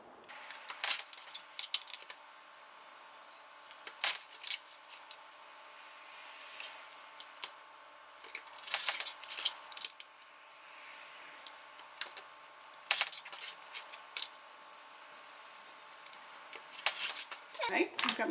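Scissors cutting through felt around an embroidered note holder, a series of crisp close snips in uneven bursts with pauses between, and quiet shuffling handling noise in the gaps.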